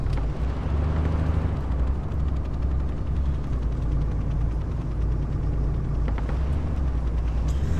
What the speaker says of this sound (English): That helo's landing. Probably to drop off troops